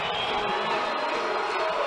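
A hockey arena crowd of over 5,000 cheers a comeback victory, a dense, steady roar that fills the whole moment, with no distinct voices standing out.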